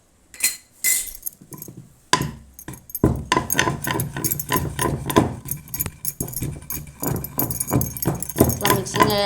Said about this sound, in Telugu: ఎల్లిపాయలు వేసి నూరుకున్నామండి